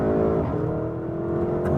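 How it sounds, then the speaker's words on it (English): A Porsche GTS SUV with a 4-litre twin-turbo V8 accelerates hard in Sport Plus mode with the exhaust set to loud, giving a loud, steady engine roar with rising tone, heard from inside the cabin. "There's so much torque from this 4-liter bi-turbo V8 engine."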